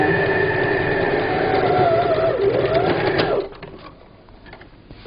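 A sewing machine stitching a table cover whirs in a fast, steady mechanical chatter close by, then slows and stops, leaving a quiet room with faint handling noise.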